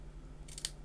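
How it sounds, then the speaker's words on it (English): Scissors snip the edge of a paper photo card, a quiet short burst of cutting ending in one sharper close snip over a low steady hum. "I'm just going to snip as close to that edge as possible"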